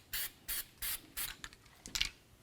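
Several short, close hissing bursts of aerosol copper anti-seize are sprayed onto a truck's wheel hub, the first four evenly spaced and the last few quicker and choppier, in a quiet workshop.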